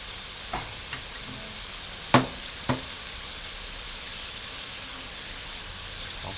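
Eggs frying in a pan with bamboo shoots, ridged gourd and mushrooms, giving a constant hiss overlaid by a few sharp clicks and taps from a utensil.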